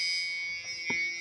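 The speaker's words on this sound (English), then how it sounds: "Old buzzer still works." Old warning buzzer in a 1989 Ford F-150 pickup, a steady high-pitched electronic drone sounding continuously throughout, with a faint click near the end.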